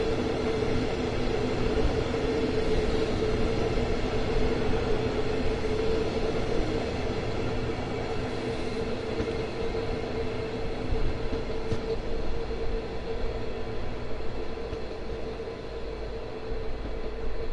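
A train bound for Ramsgate in Train Sim World 2 rumbles along continuously at an even, close level, a steady rolling drone with a faint tonal hum and no talking.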